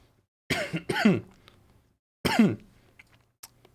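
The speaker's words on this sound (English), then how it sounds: "While I cough, you can go ahead," Two close, sharp bursts of coughing or throat clearing, the first a quick double hack, then a single cough after a pause, in a quiet room.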